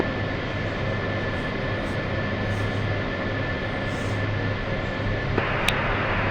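Four-engine C-130 Hercules transport aircraft in a flight simulator game, a steady loud droning engine roar that holds constant throughout with no talk.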